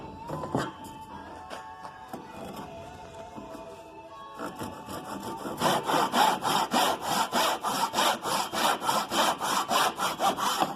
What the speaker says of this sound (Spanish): ahora tenemos que cortar lo que es el tope